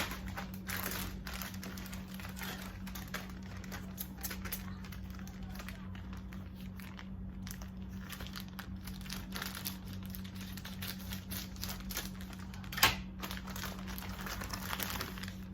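Crinkling plastic and paper packaging rustle steadily as a Raiders cap package is opened, with a few sharper taps and a brief louder crackle near the end, close by and under a low constant hum.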